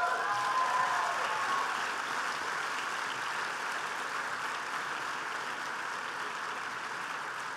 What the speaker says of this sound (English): please give yourself a round of applause for that